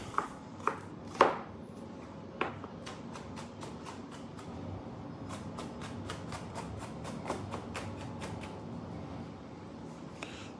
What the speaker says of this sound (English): Put that back here on the chopping board. Dice those up a little bit finer.